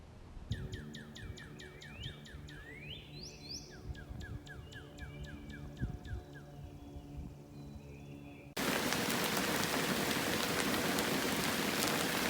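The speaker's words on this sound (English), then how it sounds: "Look at the hail coming down." Hail pouring down over a spring garden with bark mulch beds, a dense steady rattle that starts abruptly and grows loud partway through, following a stretch of bird chirps and calls over a quieter patter.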